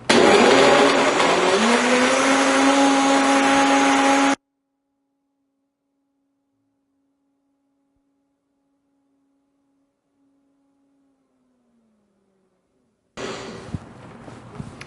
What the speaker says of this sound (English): Traditional smoothie, mixed nice and smooth in the blender as typical.